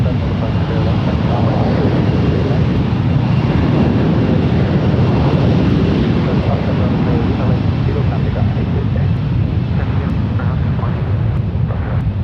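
Airliner taking off at San Francisco International Airport on runway 28 left in calm wind, a loud, steady broadband jet roar filling the whole span, with radio talk from air traffic control over it.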